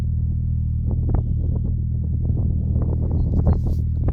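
A Lotus Elan sports car idles nearby with a steady low rumble, its engine note holding even and continuous with small irregular pulses throughout.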